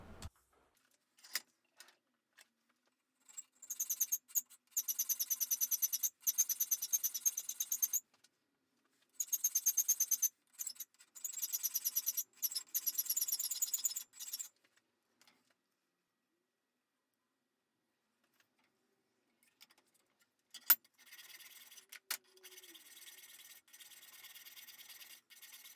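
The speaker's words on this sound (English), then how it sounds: "I'm going to be using a file to refine the shape." A hand file rasps against a forged iron piece for a blacksmithed Nuremberg box hinge, in bursts of quick rhythmic strokes separated by pauses, close and fairly quiet.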